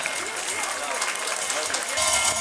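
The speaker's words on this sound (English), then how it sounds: "Everyone, please clap for the prize winner." A hall audience applauds a prize winner receiving a medal at a prize-giving ceremony, with steady, dense clapping that holds evenly throughout and grows a little louder toward the end.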